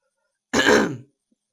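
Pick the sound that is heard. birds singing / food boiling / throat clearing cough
throat clearing cough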